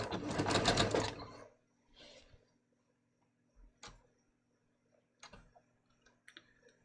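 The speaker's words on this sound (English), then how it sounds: "I'm just going to sew that short shoulder seam" A sewing machine set to a long stitch length bastes a short shoulder seam on a bias-cut top, a short whirring run at the start followed by sparse, faint clicks and handling taps in a quiet room.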